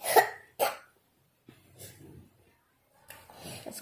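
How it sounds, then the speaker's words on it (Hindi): A child with a cough that has lasted several days coughs twice sharply and close by, then again in a rougher burst near the end, with quieter breathing and throat sounds in between. "इसको बहुत खांसी हो रही है।"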